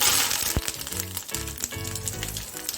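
Steady sizzling of asafoetida and curry leaves frying in hot oil for tempering a dry potato dish, a loud, continuous crackle with low humming tones running underneath.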